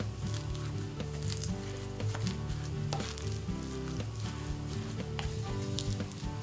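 Chopped onion and aubergine sizzle in a hot pan for a vegan red bean burger mix, a dense, steady crackle with light scraping and stirring taps, close and fairly loud.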